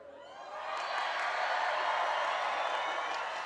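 A commencement crowd at a Chico State ceremony cheers and whoops, swelling quickly from quiet into a loud, sustained roar of voices and clapping in a large hall.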